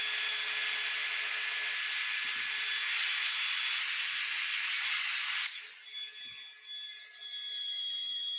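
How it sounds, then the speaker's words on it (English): Red cedar spins on a wood lathe while 400-grit sandpaper is held to it, a steady high whirring hiss that drops in tone partway through as pressure changes, close and continuous with no talk. "I'll finish this sanding bit"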